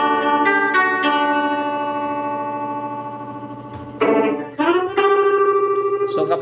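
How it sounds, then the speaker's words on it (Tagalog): An electric guitar runs through the octo tremolo setting of a Joyo Vision dual-modulation pedal, sustained chords pulsing with a wobbling, warbling modulation. A louder re-struck chord enters near the end, with no talking over the playing. "Octo tremolo, familiar sa akin to eh."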